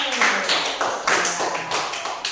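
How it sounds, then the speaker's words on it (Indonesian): A class of young students in an elementary religion lesson claps for the first group, a fast run of rhythmic, evenly spaced claps filling the room at close range. "tepuk tangan untuk kelompok 1"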